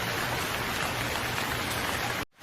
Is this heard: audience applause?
no